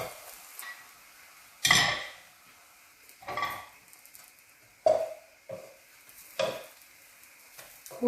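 An egg frying in a pan after being flipped, soft sizzling with a few distinct stirring and scraping bursts spaced about a second apart, fairly quiet with no talk.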